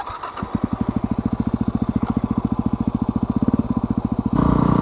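Yamaha WR250R single-cylinder dual-sport motorcycle engine running steadily with an even, rapid thumping pulse, close and loud, with a slight rise in revs near the end.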